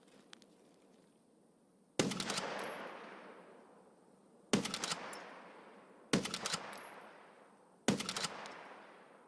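Four sharp lever-action rifle shots ring out in Escape from Tarkov, spaced about two seconds apart, each a loud crack followed by a long rolling echo that fades before the next, with no talking.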